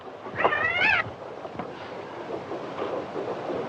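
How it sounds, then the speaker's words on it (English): A cat gives one clear, drawn-out meow, close and fairly loud, over a steady background hiss, followed by faint scattered noises. "That cat come all the way from Omaha."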